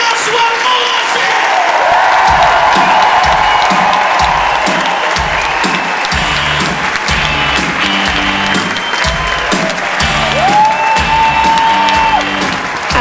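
A comedy show audience greets a comedian's entrance with loud, sustained applause mixed with cheering and whoops, the crowd swelling and staying dense for the whole stretch, with a voice over a microphone speaking over it at times.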